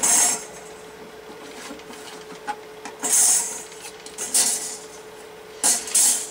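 Metal pieces of a Honeystove camping stove being set aside, producing a few light metallic clinks and scrapes in quick clusters against a quiet background.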